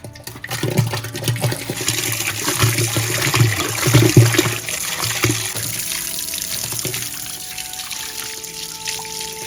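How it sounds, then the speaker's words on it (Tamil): Cow dung slurry gurgles and rushes through a pipe into a biogas tank, a watery flow that surges in uneven pulses before settling into a steady trickle. "இந்த சாண கரைசல் குழாய் வழியா சாண எரிவாயு தொட்டிக்குள்ள போயிடும்"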